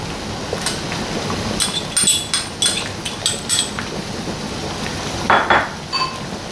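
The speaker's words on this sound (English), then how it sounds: "She's going to add those into the pan, the saucepan." Chopped tomatoes and Hungarian hot peppers go into a saucepan for home-canned salsa, with a run of close metallic clinks and knocks of utensils against the pan and a faint sizzle underneath.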